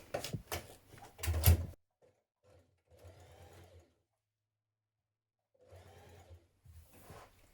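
A sewing machine stitches backpack lining in short close bursts, a rapid rattling run at the start, then quieter intermittent stitching with pauses between.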